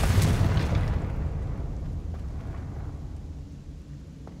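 A Confringo fire-blast spell in a Harry Potter video game hits with a loud boom that rolls off into a long rumbling decay over several seconds.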